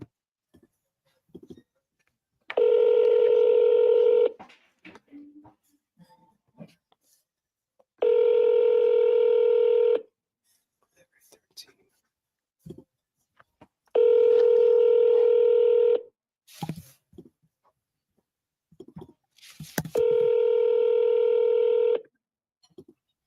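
Telephone keypad dialing tones sound as four long, evenly spaced beeps separated by quiet gaps, with faint clicks and rustles between them.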